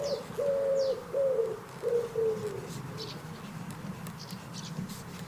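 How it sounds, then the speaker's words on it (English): A garden pigeon coos out a repeated phrase of about four soft, hooting notes in a steady rhythm, fairly close, over quiet background hiss. "I don't feel like pigeons sing that song elsewhere."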